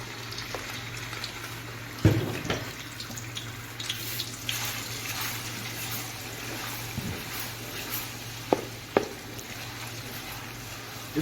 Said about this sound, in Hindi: घी हमारा गर्म हो चुका है, अब इसमें हमने 3 टेबलस्पून अदरक लहसुन की पेस्ट शामिल करनी है।